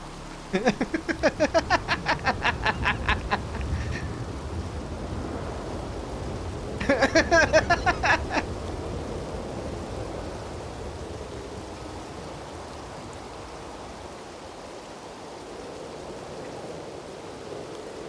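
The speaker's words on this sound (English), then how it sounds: "The rain's too loud." Heavy rain pours steadily as a loud, constant wash of noise throughout, with brief bursts of rattling, clicking noise near the start and again around the middle.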